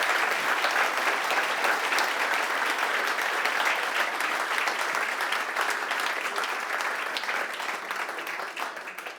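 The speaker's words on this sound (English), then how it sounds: "Maybe we give a round of applause for David first." An audience gives a presenter a round of applause, a steady, sustained wash of many hands clapping that holds evenly for several seconds before easing slightly at the end.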